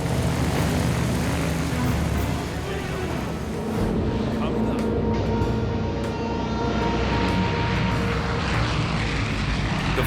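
Fixed-wing propeller aircraft flying between Stony Rapids and Uranium City in freezing northern conditions with volatile cargo aboard, giving a loud, steady engine drone that fills the whole stretch, with some talk mixed faintly underneath.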